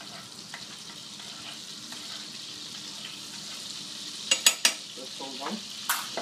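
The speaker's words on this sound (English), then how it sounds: "Now you see the butter is melting slowly. Alright, it's starting to bubble." Butter melts and bubbles in a hot pan ahead of an omelette, a soft steady sizzle broken by a few sharp clinks near the end, close and moderately quiet, with no talking.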